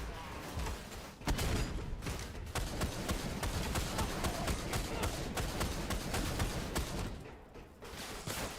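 Continuous video-game gunfire and explosive thumps from a grenade launcher, dense and loud throughout with rapid broadband bursts and a brief lull near the start.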